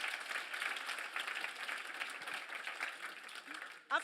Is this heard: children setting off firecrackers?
no